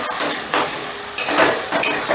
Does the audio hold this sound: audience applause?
no